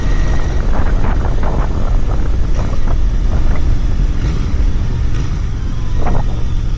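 A Royal Enfield Bear 650 scrambler motorcycle is ridden on a road, its engine droning steadily under heavy wind rush buffeting the microphone, loud and continuous throughout with no talking.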